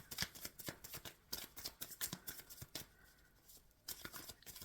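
A deck of tarot cards is shuffled close up in quick, quiet bursts of riffling and snapping. The bursts come in an uneven rhythm with a brief pause, and no one speaks.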